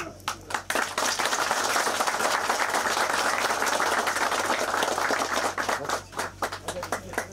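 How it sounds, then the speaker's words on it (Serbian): An audience applauds at a local commemorative event in Priboj, Serbia, a sustained wave of clapping from many hands that swells, holds steady, then thins out into scattered claps near the end. "Ovo su sve bili dobri aplauzi"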